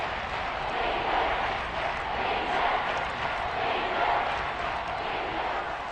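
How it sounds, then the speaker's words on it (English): A dense, steady roar of a stadium crowd fills the Dome during a football game, loud and continuous with swelling waves and no clear voices standing out. "The crowd here in the Dome making things difficult"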